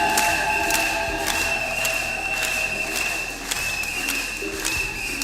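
A crowd applauds Father Ikambe and Father Louis at a church jubilee celebration, steady sustained clapping with sharp rhythmic accents and a tonal hum running underneath.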